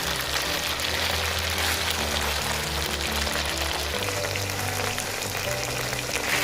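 Continuous loud sizzling and crackling of prawns frying in hot oil, steady throughout with no talking.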